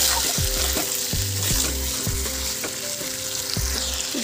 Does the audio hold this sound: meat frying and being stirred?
yes